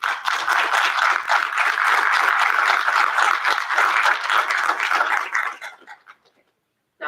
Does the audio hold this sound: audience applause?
yes